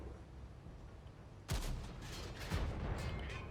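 A tank cannon in World of Tanks fires with a sudden heavy boom, followed about a second later by a second booming blast, both ringing out over low battlefield rumble.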